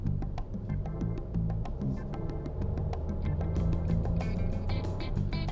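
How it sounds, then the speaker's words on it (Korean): Cabin of a new Kia Ray EV accelerating toward 4000 rpm carries a steady low road and motor hum with faint high whine, continuous and moderately loud with small rhythmic ticks. "제가 4000rpm까지 올리면서 가속을 해봤는데"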